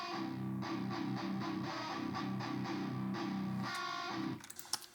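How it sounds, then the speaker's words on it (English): Electric guitar played through effects, heard alone as a steady run of chords with regular picked accents, ending in a few scattered clicks. "Get to hear my lovely guitar playing there."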